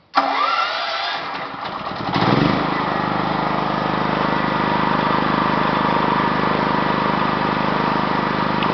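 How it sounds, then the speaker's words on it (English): A Newgaz 5000 D-LPG/NG LPG and natural-gas power generator cranks briefly, catches, and then settles into a loud, steady, continuous engine drone heard close up with no talking. "We can start the generator now."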